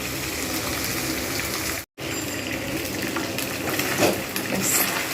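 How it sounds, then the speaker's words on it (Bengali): Bhetki fish bones fry on full high heat, a loud, dense sizzling hiss with a brief dropout partway through and some bubbling spatter near the end. "আঁচ কিন্তু পুরো জোরে রাখতে হবে খুব ভালোভাবে ভেজে নিতে হবে"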